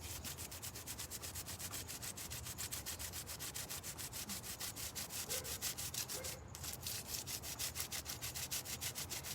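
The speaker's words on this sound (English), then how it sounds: "Remove any rust. There's rust underneath the paint." Steady rhythmic scrubbing and rubbing as rust is worked off a painted metal table, with continuous strokes that carry on evenly throughout and no talk.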